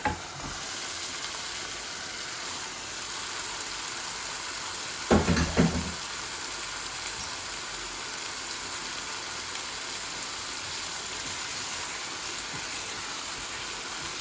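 Duck eggs fry in a pan with fried spices and sweet pumpkin flowers, giving a continuous close sizzle and hiss with one brief louder crackling burst partway through.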